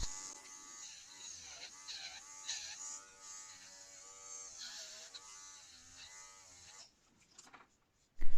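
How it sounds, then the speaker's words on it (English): Electric nail drill fitted with a fine ceramic bit, buzzing quietly at low speed while sculpting soft gel nail extensions; the faint whirring pitch wavers as the bit presses and lifts, then stops, followed by a short knock. "this is a fine ceramic bit. It won't give any heat, and you've got to do this at a really low speed."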